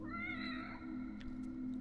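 A cat meows a few times in The Evil Within DLC horror game, its clear tonal cries rising and falling early on over a steady low ambient drone.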